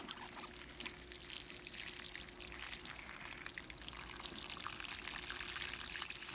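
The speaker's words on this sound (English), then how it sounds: "Give them a nice water." Water is poured steadily over freshly planted chaya cuttings, a continuous soft splashing and trickling at close range that stays faint and even throughout, with no voices.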